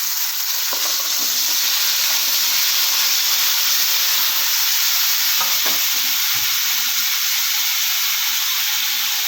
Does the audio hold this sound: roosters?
no